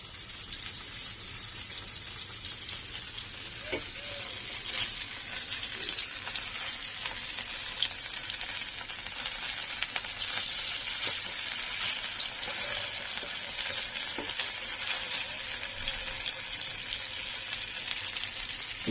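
Chicken stick kebabs frying in a pan give a quiet, continuous close sizzle with a few light clicks and scrapes, no voices over it.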